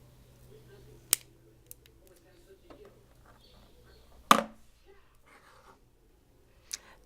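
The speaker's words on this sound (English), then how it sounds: "put it on a coiling rod and cut it, because it's more easier to work with when dealing with such a small coil" Thin vape coil wire wrapped on a coiling rod is snipped, giving a few sharp isolated clicks spread apart in an otherwise quiet room, with one louder cut in the middle.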